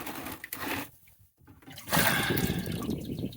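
Rushing water from a garden hose sprays steadily after a brief quiet gap, with an earlier stretch of splashing flow, close and fairly loud, rinsing rusty parts outdoors.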